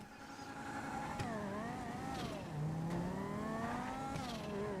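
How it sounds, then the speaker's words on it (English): In a driving video game, a car engine drones and whines in the background, its pitch rising and falling as it revs and shifts. The sound is quiet and continuous, with no speech. "I guess that's the car making that noise."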